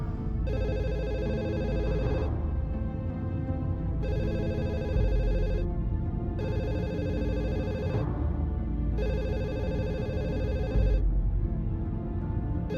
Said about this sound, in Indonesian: kok teleponnya nggak diangkat?